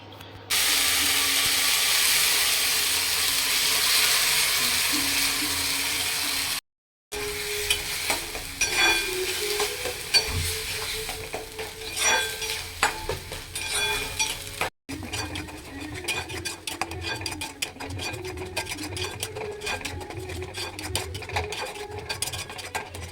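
Cauliflower leaf paste hits a wok of hot oil tempered with nigella seeds and a dried red chilli, giving a loud, steady sizzle. After a short break, quieter frying carries on with scattered scraping and stirring clicks.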